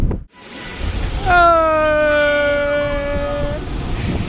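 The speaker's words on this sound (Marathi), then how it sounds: "गाडी गेली गाडी ट्रेन काय गेली सनू" A train's horn sounds a long, loud, steady blast over the rumble of a passing train, fading slightly as it continues.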